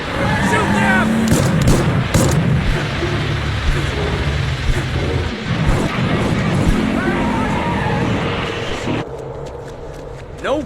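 Gunfire in Hell Is Us ruins a wartime checkpoint, loud rattling bursts of shots and booms mixed with shouting voices over a rumbling background, tapering off near the end.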